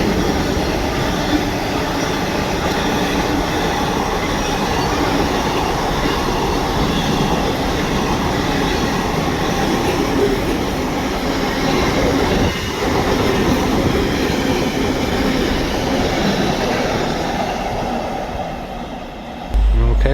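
A Class 66 freight train rolls past at Stafford on the West Coast Main Line, a loud continuous rumble of wagons with rhythmic wheel clatter and faint squeal, sustained for the whole stretch before easing at the end.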